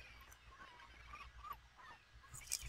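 Seagull squawks in a video game come as scattered, fairly faint bird cries over a steady low background hum, with one sharper burst near the end and no talking.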